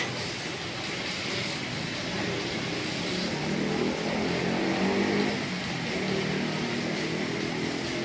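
Steady motorbike traffic rumbles along a street in Vietnam, a continuous wash of engine drone from several passing bikes at moderate distance with no talking.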